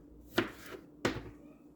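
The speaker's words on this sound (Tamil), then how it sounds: "வெங்காயம் தக்காளி எல்லாம் நான் இந்த ஃபுட் ப்ராசஸரில் தனித்தனியாக பொடியாக நறுக்கி எடுத்துக்க போகிறேன்" Two sharp chopping thuds from a food processor chopping onion and tomato land about a second apart, close and distinct, with quiet between them.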